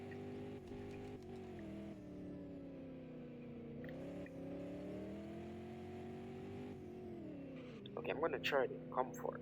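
A Porsche 718 Cayman GT4 RS holds a steady droning engine note in second gear on a winding road, the pitch swelling and easing, while a voice talks quietly over it near the end.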